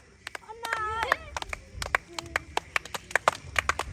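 A small group claps by hand in loose, uneven bursts of sharp close slaps at a training camp, mixed with shouted voices and whistling.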